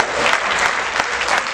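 An audience at a Haryanvi poetry gathering under a pandal breaks into dense, sustained clapping, loud and continuous for the whole moment.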